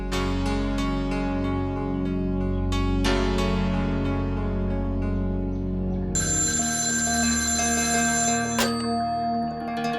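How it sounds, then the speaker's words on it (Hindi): A telephone rings as a call is placed in a Hindi television drama scene: a loud, steady electronic ringtone of sustained tones that shifts to a brighter, higher ring partway through, with no talking. "मैं भी राजश्री बहन को फोन कर देती हूँ।"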